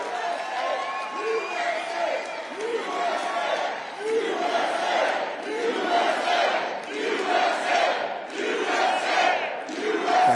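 A large crowd at a campaign rally in Cedar Rapids, Iowa roars and chants in rhythmic repeated waves, loud and sustained throughout, with clapping mixed in and no speech over it.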